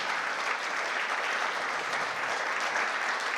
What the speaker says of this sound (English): So let's have a big round of applause for Michael and Steffen, please.